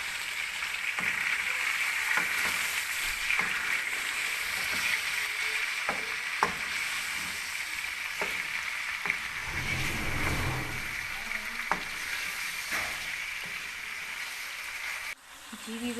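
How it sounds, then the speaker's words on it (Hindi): Crushed ginger and garlic fry in hot oil for chicken karahi, a steady loud hissing sizzle that runs throughout, broken by occasional clicks and scrapes of stirring. "और इसे 2 मिनट भूनेंगे।"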